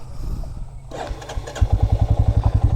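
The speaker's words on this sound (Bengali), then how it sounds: "আর এই হচ্ছে আমাদের আজকে বাইক" A motorcycle engine starting at the beginning of a ride from Kolkata to Mandarmoni, first a soft idle, then catching and settling into a loud, rhythmic close-up putter.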